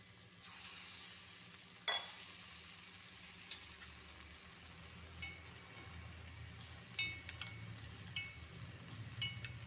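A maida tea-time snack deep-fries in hot oil with a soft, continuous sizzle, broken by a few sharper spits and clinks of a ladle or pin against the pan, close by and with no talking.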